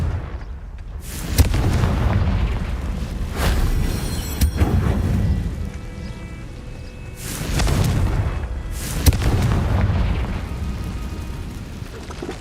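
Repeated booming explosions from the Confringo blasting spell in Hogwarts Legacy, several loud blasts spread across the stretch over a continuous rumbling game backdrop.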